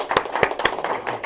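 A small audience gives a short burst of clapping with a few sharp, uneven claps close by, lasting just over a second.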